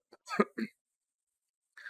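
Two quick, close coughs in a row, then a pause and the start of a breathy sound.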